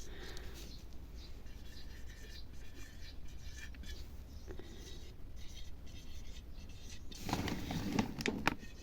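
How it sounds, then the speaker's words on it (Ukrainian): Pen scratching out labels on glass jars of home-preserved cherries, a steady soft scribbling close by and faint throughout, growing busier and louder near the end. "Попідписую, завжди пишу рік, щоб потім було видно, чи ще можна тримати, чи вже потрібно викидати."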